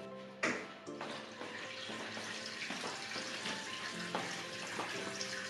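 A small pump runs steadily, filling a tank with osmosis water for an aquarium, a continuous close rushing and gurgling of flowing water with a sharper splash near the start.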